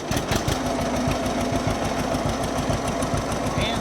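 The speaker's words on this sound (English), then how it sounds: "I'm going to show y'all a startup of this John Deere 50." A John Deere 50 tractor engine runs close by with a rapid, regular two-cylinder chug that knocks evenly throughout at moderate loudness.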